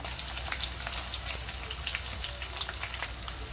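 Chili, garlic, cumin and mustard seeds frying in half a cup of hot oil, a steady close sizzle with scattered sharp pops and crackles throughout, with no talking.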